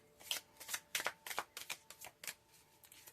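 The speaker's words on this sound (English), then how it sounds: "These cards are a little hard to shuffle." Tarot cards being shuffled by hand in a series of quick riffling bursts, close and fairly quiet, with short pauses between.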